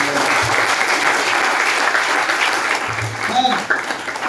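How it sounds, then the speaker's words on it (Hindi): An audience bursts into loud, steady applause for the people honored on stage, a full-room clapping wash that holds throughout with a brief voice near the end. "तो जोरदार तालियां बजाइए अपने लोगों को।"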